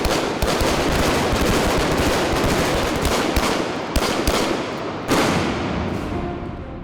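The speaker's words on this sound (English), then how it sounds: "We've had a lot of gun practice" Rapid bursts of gunfire during weapons training on a film set, loud and dense throughout, with sharp reports cutting through at intervals and no talking.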